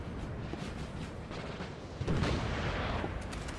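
Napoleonic artillery cannon fire on a battlefield in Napoleon Total War, distant booming shots rumbling under a steady din, with a heavier blast landing closer about two seconds in.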